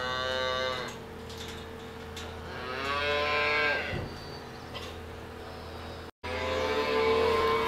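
Dairy calves moo repeatedly at a farm in Northeast Washington, with several drawn-out, loud calls from close by that overlap against steady barn background noise and a brief dropout near the end.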